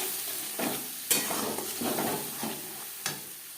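A garlic, onion and tomato paste masala sautés on a high-to-medium flame, sizzling steadily under repeated stirring scrapes and an occasional sharp clink of utensil on pan.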